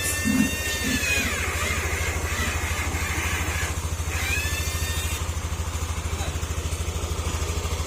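Yamaha Aerox 155 V2 scooter engine with a healthy cam bearing idling steadily nearby with an even, rapid putter and light mechanical clatter, voices faintly in the background.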